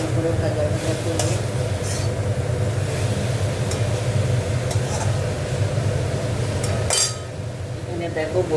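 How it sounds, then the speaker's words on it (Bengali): Steady frying and stirring in a kadai of mustard seeds, black cumin and dried red chillies in oil, with a continuous sizzle and scraping. A few metal clinks ring out, and the sound drops slightly near the end. "এটাকে একটু ভালো করে ভাজা ভাজা করবো।"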